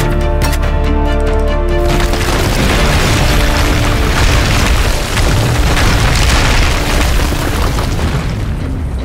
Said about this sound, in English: Rico using the physics of the world, and his new multi-tethers, to force Di Ravello's statue into inflicting damage upon itself